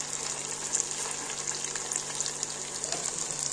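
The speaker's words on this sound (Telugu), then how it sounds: "ఎక్కువ ఎర్రగా కాల్చుకోవాలంటే కాల్చుకోవచ్చు, మీకు సరిపోయిన మాయన కాల్చుకోవచ్చు." Chicken pakoda frying in hot oil for a shop-style home recipe, a steady, close sizzle with bubbling and crackle throughout, no talking.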